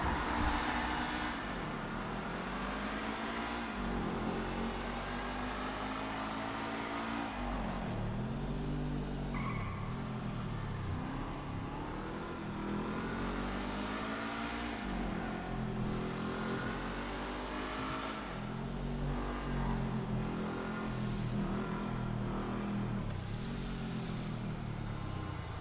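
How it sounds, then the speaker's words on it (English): A sports car on a test drive, its engine revving loudly and continuously with rising and falling pitch sweeps, and tire noise mixed in throughout. "Yeah, this car's a sports car, by the way, Kurt, so shall we test drive it?"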